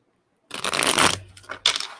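A deck of tarot cards being shuffled close up, with two quick riffling bursts of papery flutter separated by a short pause, following a moment of silence.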